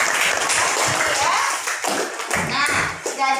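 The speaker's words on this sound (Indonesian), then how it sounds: "Tepuk tangan untuk Zahra." A classroom group applauds with dense, close clapping that continues for several seconds, with some voices mixed in, then tapers off unevenly.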